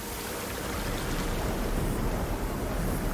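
Water rises in a Horizon Forbidden West level, a steady rushing, churning wash that fills the scene evenly from start to finish, with no voices.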